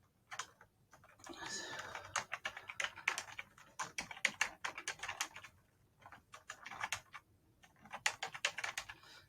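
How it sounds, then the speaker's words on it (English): Month names are typed on a computer keyboard in quick bursts of close, crisp keystrokes, separated by short pauses. "So type those in right quick."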